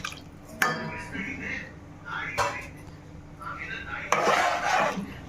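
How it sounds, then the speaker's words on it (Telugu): Water goes into a pot of chana dal and chicken curry. A few sharp metallic clinks are followed by a soft, bright splashing pour near the end, and a voice speaks quietly at times. "ఇప్పుడు వాటర్ వేసుకుందాం"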